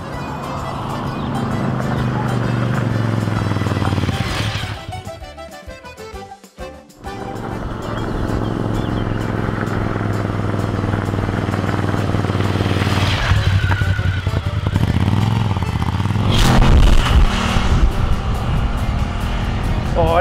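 A Ducati Scrambler Café Racer motorcycle ridden along country trails through Tuscan valleys, a loud, continuous engine note rising and falling with throttle, with wind rush and a brief dip where the sound thins out.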